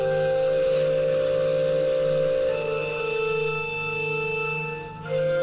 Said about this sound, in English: I heard some organ music.